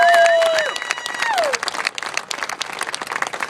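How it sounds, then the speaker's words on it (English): Applause and clapping from an award ceremony audience, starting just after a tonal sweep and continuing as dense, steady clapping that gradually thins toward the end. "let's give him a round of applause"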